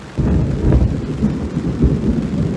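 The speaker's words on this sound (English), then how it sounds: "That's not a sound effect, that's thunder." Heavy thunder rumbles loudly and continuously during a rainstorm at a fishing spot under the William Powell Bridge in Key Biscayne, a deep steady roar with no talking.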